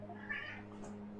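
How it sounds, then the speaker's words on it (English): A house cat gives one short, faint meow indoors over a steady low electrical hum, with no talking. "Oh, cat."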